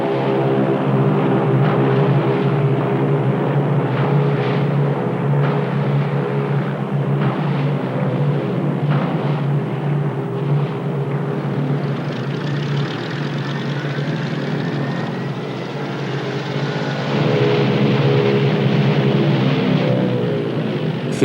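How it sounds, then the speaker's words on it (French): Engines of a Catalina flying boat throttle up as the heavily loaded plane skims across the sea toward a ship: a loud, steady propeller drone with a low rumble that holds throughout and swells near the end. "Philippe remet les gaz et fait planer l'appareil sur l'eau pour rejoindre la Calypso"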